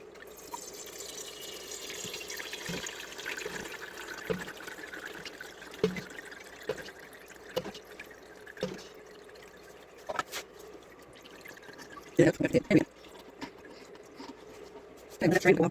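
Rendered beef fat being strained into tallow: a thin, steady pour trickles through a strainer, punctuated by scattered drips and clinks, with a louder clatter of utensils near the end and someone talking.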